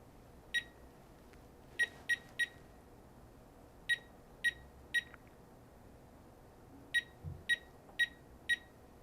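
A Powermax Plus alarm panel keypad chirps as a phone number is keyed in: eleven short, crisp, evenly pitched beeps in irregular clusters over a quiet room.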